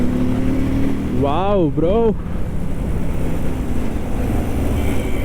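A Keeway Benda V302C two-cylinder, belt-drive motorcycle drones steadily while being ridden, its exhaust rumble blended with constant wind rush, and a rider briefly exclaims partway through.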